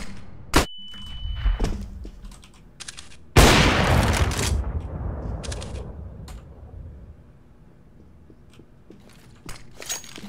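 Flashbang grenade going off in a first-person shooter match, a sudden loud bang with a bright burst and ringing decay, preceded by a metallic clink and scattered clicks and thuds.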